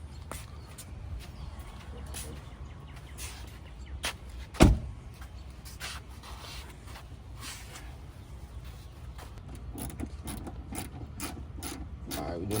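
A ratchet tightens a 10 millimeter bolt on a Chrysler 300 during an LED side marker install, giving steady rapid pawl clicking close by, with one sharp knock partway through.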